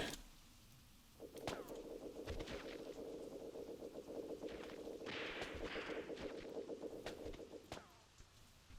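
Gunfire crackles in the Graviteam Tactics war game, a sustained burst of rapid shots rolling on at a distance with a few sharper cracks, fairly faint and with no voices.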